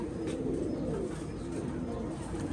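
Pigeons cooing in a steady, low murmur throughout, fairly close and continuous, with a dense background of ambient noise.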